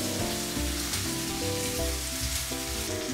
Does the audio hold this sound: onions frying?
yes